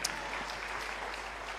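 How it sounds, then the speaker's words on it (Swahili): A church congregation claps during a morning worship service, a dense, even burst of applause that stays steady throughout, moderately distant. "Nipigie makofi wewe."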